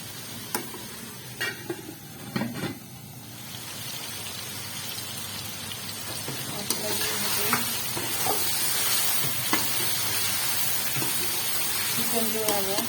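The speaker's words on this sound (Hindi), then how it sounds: "चिकन जो है वो फ्राई हो रहा है" Chicken pieces for biryani fry in a pot with a continuous crackling sizzle that builds and thickens after a few early clanks and stirring sounds near the start.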